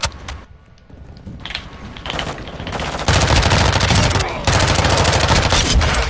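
Rapid automatic fire from an M4 rifle in the video game Modern Warfare 2, heard as loud bursts that build from scattered shots into sustained, dense gunfire.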